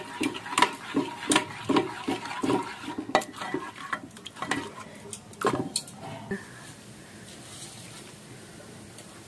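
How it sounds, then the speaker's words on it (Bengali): Boiled red lentils are stirred in a pot on a gas stove, giving repeated scraping, clinking strokes in an uneven rhythm that grow quieter toward the end, with no talk over them. "গ্যাসের চুলায় যে মসুরের ডাল সিদ্ধ করে নিলাম, একটু ঘেটে চুলায় দিয়ে দিব।"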